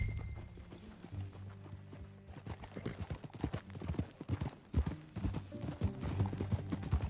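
Horse hooves clip-clop in a steady trotting rhythm, fairly close, with faint background ambience from the video game Red Dead Redemption 2.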